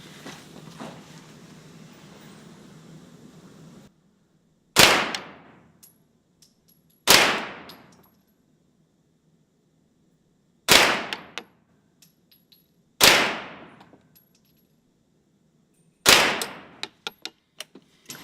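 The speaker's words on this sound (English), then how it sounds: "So we're going to go ahead and shoot a few rounds." A Ruger PCC carbine fires five sharp, loud single shots at irregular intervals, each crack ringing off into silence, with a couple of faint metallic clicks at the end.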